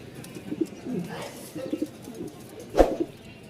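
Pigeons of breeds such as Pakistani Toy Lahori cooing in a loft of about fifty pairs, soft repeated low coos at moderate distance with a louder burst near the end.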